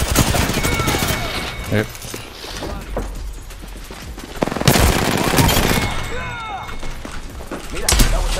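Gunfire in the video game Apex Legends, with dense bursts of rapid shots and loud booming blasts in a chaotic firefight, close and heavy, while a voice talks briefly.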